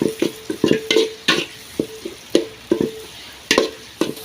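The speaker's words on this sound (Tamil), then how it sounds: "எண்ணெயில் வந்து தக்காளி வெங்காயம் நல்லா வதங்கிடும்" Tomato and onion sauté in oil for rasam while a spoon scrapes and stirs them in quick, uneven strokes over a light sizzle. The sound is close and clear, with no voices.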